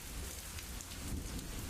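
Heavy downpour in the video game Glory Hounds, a steady hiss of rain on surfaces lasting the whole moment with no other sounds over it.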